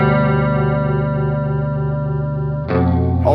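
An EarthQuaker Devices Aurelius chorus pedal shimmers over a sustained chord, with a roomy, wobbly modulation pulsing steadily before a fresh chord is struck near the end.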